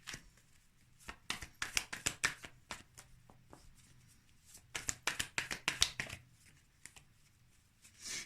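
Tarot cards are shuffled and drawn by hand in a quiet room, producing bursts of crisp riffling and sharp flicks and taps in clusters, with pauses between them.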